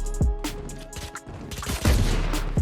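Sova's shock dart ability fired in Valorant during a round on the Split map, heard as a few sharp electric bursts and impacts mixed with game effects, loud and close.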